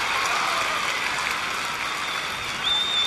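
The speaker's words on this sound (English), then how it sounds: "after a foul ball goes straight back like that and there's applause, you know somebody made a great catch." A baseball stadium crowd applauds a fan's catch of a foul ball hit straight back at a Houston at San Diego game, a steady, even wash of clapping from many people throughout.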